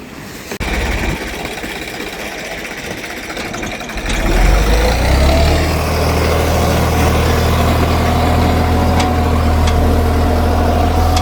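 A fishing boat out at sea running on just one of its engines, a steady loud mechanical drone that picks up and grows heavier partway through, then holds an even rumble with no talk over it.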